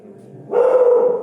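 A dog gives one loud, drawn-out bark or yelp close by during an outdoor guided tour at Srebrna Góra, rising abruptly out of quieter background noise.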